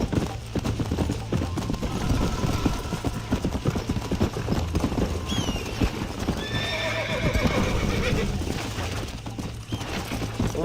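A winded racehorse ridden in the video game Red Dead Redemption clip-clops along at a steady rhythm and lets out a whinny, its hooves close and continuous under faint game background sound.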